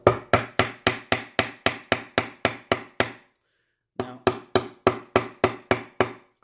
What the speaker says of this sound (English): Now, I'm going to take the hammer.